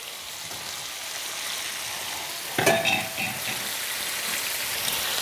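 Food sizzles steadily in a hot pan at a restaurant-style stove, with a sudden louder burst of clatter and spitting about halfway through as the pan is tossed, then the even frying resumes.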